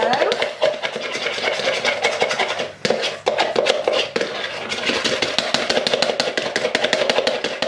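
Jaffa cake batter mixed by hand with a spoon or whisk in a bowl: rapid, continuous scraping and clinking strokes against the bowl, close and steady with a short pause midway.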